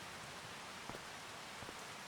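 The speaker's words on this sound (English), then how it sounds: "a rainy April morning here on Riverbend Springs" Steady rain in the video game Farming Simulator 25 on a rainy April morning at Riverbend Springs, a soft, even hiss of falling drops with a couple of faint patters, heard alone.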